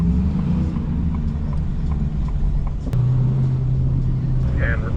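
A convoy of lowered Ford F150 trucks and Mustangs rolling down a small-town Main Street, a dense continuous rumble of engines and exhaust, with one low droning note rising to the front midway through.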